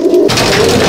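Malbai pigeons in a loft give a low, steady cooing that carries close and fairly loud through the full second, with a dense rustling background.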